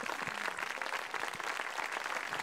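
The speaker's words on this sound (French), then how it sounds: "vous redoubliez vos applaudissements pour Francis, pour toute son équipe" Audience at an evening outdoor event in Aubrac applauds, a fairly faint but continuous, even wash of many hands clapping from a distance.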